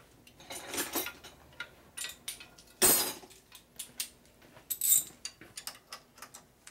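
A ratchet wrench tightens bolts on the bottom of a Harley shovelhead stroker motorcycle's front end. Quick irregular bursts of clicking pawl ratcheting mix with metallic clinks and handling noise, close and moderately loud, with no talk.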